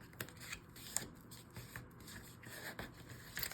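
A small square of scrap paper being folded by hand at a crafting table, steady papery rustling and crisp creasing scrapes with a few sharper snaps along the way.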